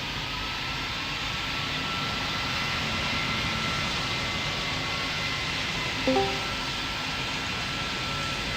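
Jet airliner rolling for takeoff in the Roblox flight game Pilot Training Flight Simulator, a steady broadband engine roar that holds even and loud throughout, with a faint tonal whine and a brief bump near the end, no voices.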